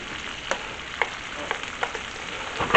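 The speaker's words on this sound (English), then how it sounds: "And we're going to saute us some squash In the pool. in olive oil." Squash sautés in olive oil in a pan, giving a steady, close sizzle. Soft clicks and scrapes of stirring come through at irregular intervals.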